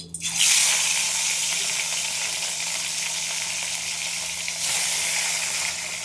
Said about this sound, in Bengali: অল্প অল্প করে ভেজে নেব, দুটো দুটো করে ভাজবো